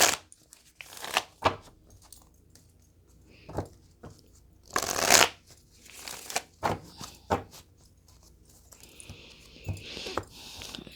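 Tarot cards are shuffled by hand for a reading, giving quiet bursts of papery riffling and flicking in irregular clusters, close and soft, with no talking.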